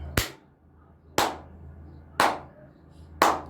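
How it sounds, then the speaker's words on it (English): One person claps their hands four times, evenly spaced about a second apart, each clap sharp and close against a quiet background. "I have to clap for you."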